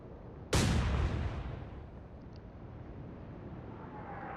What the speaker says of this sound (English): Destroyers firing their guns, not being very accurate, but at this range, it's very difficult to hit with a destroyer